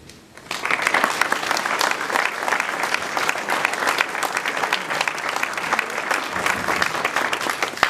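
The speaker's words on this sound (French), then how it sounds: "Vous pouvez les applaudir" An audience applauds municipal staff and volunteers at a mayor's New Year address in Prats de Mollo La Preste, with dense, steady clapping that starts after a brief quiet moment and holds for several seconds.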